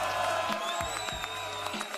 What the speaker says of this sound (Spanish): Un aplauso también para Teorema.